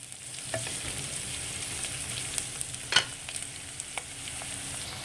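Onions softening in a frying pan for a vegetable egg tofu soup hiss in a soft, steady sizzle, broken by occasional sharp clicks of stirring.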